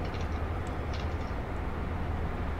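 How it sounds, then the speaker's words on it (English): A train engine runs steadily while giving thrust, a continuous low rumble and rolling noise heard from inside the carriage, with faint rattles above it. "The engine is charging, um, but it's also giving some thrust as well."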